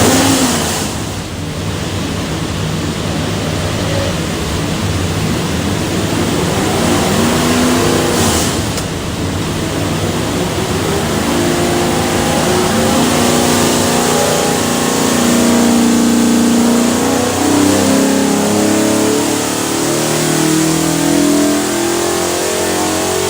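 A turn-key 302ci small block Ford built for a '65 Mustang revs on an engine dyno, a loud sustained pull that holds and climbs steadily through the run with no one talking.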